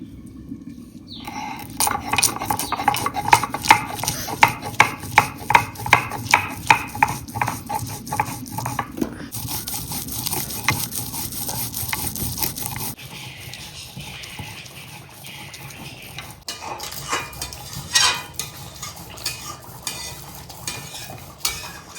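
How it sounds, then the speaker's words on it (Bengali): Prawns and green chillies frying in a little oil with white mustard for a katla fish curry, giving a steady close sizzle with frequent scraping and stirring clinks of a spatula against the pan, louder early and easing later. "এবার দেবো চিংড়ি মাছ আর কাঁচা লঙ্কা ভাজা সাথে হালকা একটু তেল দিয়ে দেব"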